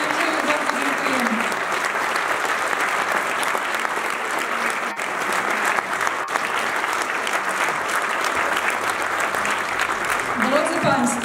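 Sustained, dense applause from a theatre audience following a folk song-and-dance ensemble's wedding performance, continuing evenly for several seconds with a voice faintly present near the end.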